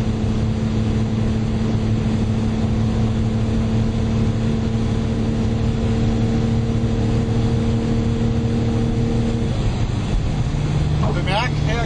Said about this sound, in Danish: her kører vi i 6. gear. 220 ved 2600 omdrejninger.